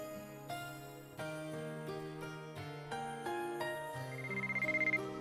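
A phone ringtone in the White Album 2 visual novel plays a clear, melodic electronic tune of stepped tones, ending in a rapid trilling ring, loud and alone.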